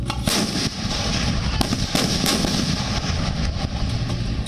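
An Indian Army Bofors artillery gun fires in a series of sharp, heavy blasts, several bangs close together over a rumbling low background, loud and near.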